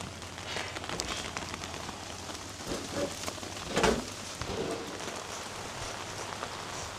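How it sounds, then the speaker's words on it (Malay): Rain falls steadily on a campsite in an orchard, a continuous dense patter with a few brief louder taps and faint chirps mixed in. "Hujan dah turun."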